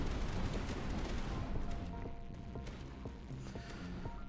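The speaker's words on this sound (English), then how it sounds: "the super heavy pulse cannon is just like stonking" Heavy pulse cannon fire in the tower-defense game Tower Dominion, a steady low rumbling barrage of rapid repeated shots that rolls on without pause.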